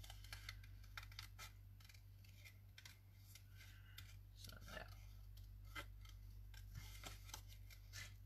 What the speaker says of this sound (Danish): Nu klipper lige væk her